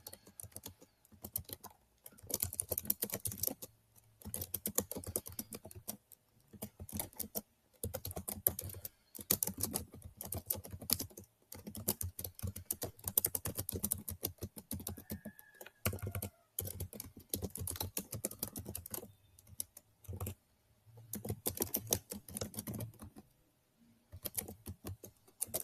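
Rapid typing on a computer keyboard while an online company registration form is filled in, steady bursts of close key clicks with short pauses and no speech.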